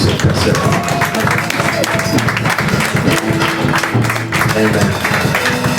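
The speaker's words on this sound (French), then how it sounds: "Applaudissons pour cette personne." An audience at a French-language church service claps together in a steady, dense patter of applause, loud and close, with some voices mixed in.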